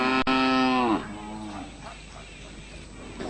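A single loud, drawn-out moo from cattle at a gaushala, a camp housing stray, unproductive livestock, followed by a softer, lower bovine call and quiet ambient noise.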